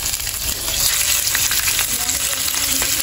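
Pork frying in a pan for caldereta, a loud, dense, continuous sizzle with crackling spatter, close up and with no talking.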